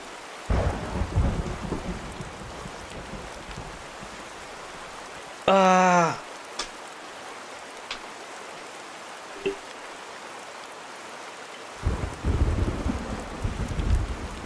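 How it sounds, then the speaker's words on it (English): Thunder and rain in the video game A Space for the Unbound: a deep rolling thunder rumble opens, quiet rain patters between, a short voice cry cuts in, and a second thunder roll swells near the end. "I was so startled by the thunder"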